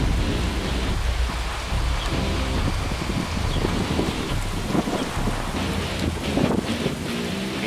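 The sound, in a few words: rumbles of thunder during a rainstorm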